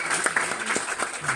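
An audience at a blogging event bursts into applause, a brief dense wash of steady clapping heard close and fairly loud.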